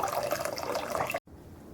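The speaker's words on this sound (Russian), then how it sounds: "Мы его выливаем и выбрасываем. Очень удобно с этой крышкой." Cooking water pours from a pot through its lidded strainer, a steady close splashing stream that cuts off abruptly, followed by faint room tone.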